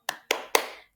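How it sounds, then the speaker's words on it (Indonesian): Three sharp hand claps in an even rhythm, led as a classroom cheer in an Islamic religious education lesson, crisp and close with short decaying tails and no talking. "yuk kita tepuk semangat bersama-sama."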